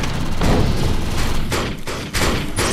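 Rapid gunfire crackles and thuds almost without pause during a PvP firefight in the game Defiance, loud and close throughout with only short dips in the volley.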